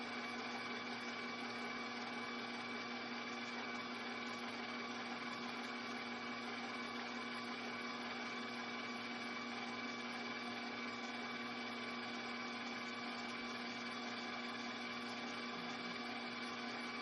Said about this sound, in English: I'm going to put my egg whites into the bowl of my stand mixer with a whisk attachment. I'm going to mix this on high.